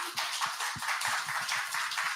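A small room full of people clapping for a visiting pastor after his lecture at a church gathering, a steady, fairly close patter of hands with occasional louder individual claps lasting about two seconds.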